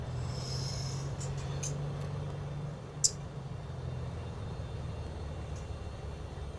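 A small plane's engine idles at a little airfield at Chalon-Champforgueil, a steady low drone that runs throughout with a brief sharp click near the middle.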